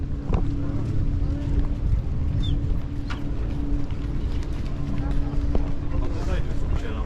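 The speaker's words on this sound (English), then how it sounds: "Now we're getting back on the boat and going back to where we started." Low, steady engine drone of a boat under way on Lake Ohrid, North Macedonia, with wind buffeting the microphone and water noise, no clear talk.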